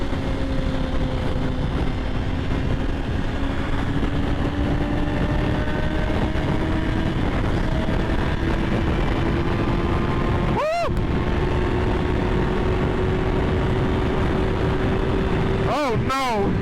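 A 2023 Kawasaki Ninja ZX6-R motorcycle engine runs steadily in low mode, its pitch climbing slowly as it revs, with loud sustained engine noise throughout and brief gaps or shifts near the end.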